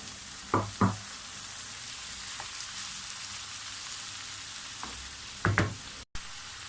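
Tomatoes being added to a frying pan while cooking imam bayildi, a soft continuous sizzle with a few brief clatters and stirring knocks, quiet and close.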